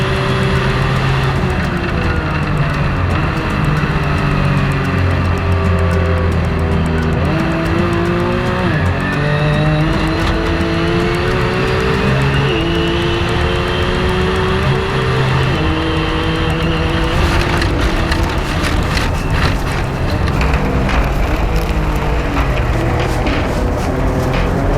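Race car on a circuit's back S turns, engine droning loudly and continuously with shifting pitch through the bends, rising and falling as it powers between corners, heard alone.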